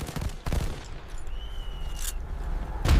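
M16 rifle shots fired by trainees on a live fire range during Space Force basic training, a few loud cracking reports spaced apart over steady outdoor background noise.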